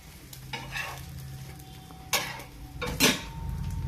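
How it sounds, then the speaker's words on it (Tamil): Food frying on a hot tawa, a steady close sizzle broken by a few sharp scrapes and clinks of a utensil against the pan. "நல்லா கொஞ்சம் டீப் ஃப்ரை பண்ணுங்கள்."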